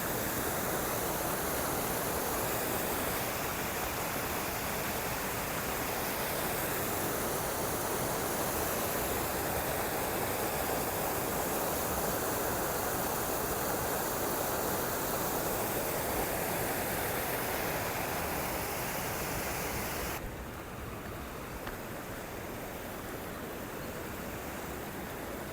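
Rushing river water near Padiyapelella on the road to Mandaramnuwara: a loud, steady, dense roar that runs unbroken throughout and dips slightly in level near the end.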